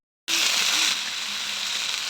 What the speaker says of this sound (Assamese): মায়ে ভাজি আছে পাপৰ আইতা পাপৰ ভাজি আছে